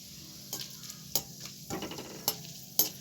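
Whole garam masala and a bay leaf sizzle in hot oil in a pan, a soft steady fry broken by several sharp stirring clinks and scrapes.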